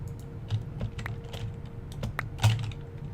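Loud clacky computer keyboard typing during a Minecraft session, irregular bursts of sharp keystrokes close to the microphone with one heavier strike near the end, no talking.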